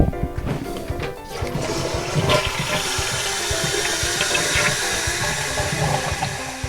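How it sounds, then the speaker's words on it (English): A toilet flushes in one long, loud, rushing surge of water that swirls and gurgles steadily as the bowl empties and refills, with no voices. "don't forget to flush"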